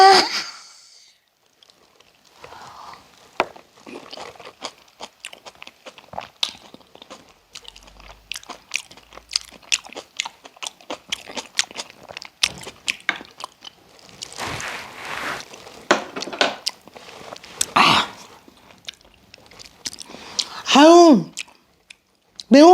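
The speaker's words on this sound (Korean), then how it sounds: "마카레에다가 매운 김치를 얹어서 먹으니까" Someone close to the mic eats curry topped with spicy kimchi and pot-cooked rice, with wet chewing and crunchy bites in an irregular rhythm and brief vocal sounds near the end.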